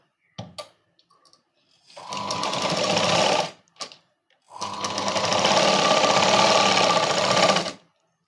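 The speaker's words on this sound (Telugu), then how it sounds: "ఇక్కడ కుట్టేసుకుంటా చూడండి." A sewing machine stitching a princess cut blouse runs in two sustained bursts, a shorter one then a longer one, with brief clicks and a pause between, loud and close.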